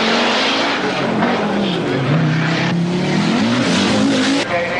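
A rally car at the 1983 Lombard RAC Rally, a Toyota Celica Turbo among the runners, roars past loudly with a rising and falling engine note and some tyre noise, continuous and close.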